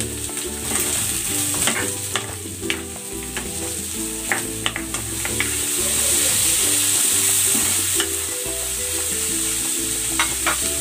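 Carrots and chayote sizzle steadily in a hot pan, with a continuous frying hiss and repeated scraping clicks as a utensil stirs the vegetables, close and alone with no talk.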